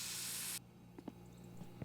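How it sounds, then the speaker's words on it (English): Mosquito repellent spray from an aerosol can in My Summer Car, one loud hissing burst lasting about half a second, then quiet with faint small noises. "Mosquito spray."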